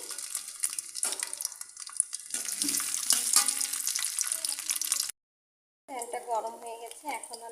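Three dried red chilies and two cloves of local garlic go into hot oil with a bay leaf while preparing a spicy olive pickle, sizzling and crackling close by with stirring, a short silent gap, then more sizzling; someone talks over it.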